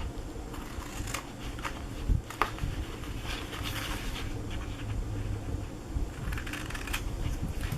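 Scissors cutting small squares off a paper box template, giving soft, close snips and paper rustles in an irregular patter, with a quiet steady background hum.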